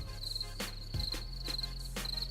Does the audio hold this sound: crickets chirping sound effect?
yes